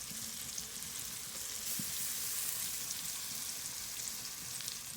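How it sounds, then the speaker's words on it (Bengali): Ginger-garlic paste sizzles steadily in hot oil with a little chopped onion, a dense close frying hiss broken by soft scrapes and knocks as it is stirred around the pan, with no voices. "দিয়ে ভালোভাবে নাড়িয়ে নেব।"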